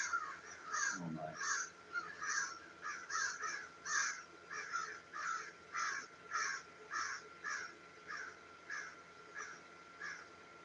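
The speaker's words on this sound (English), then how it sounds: "right now it is a caw" Crows caw over and over in a regular rhythm, roughly twenty harsh calls across ten seconds. They sound moderately distant and fairly faint in quiet surroundings.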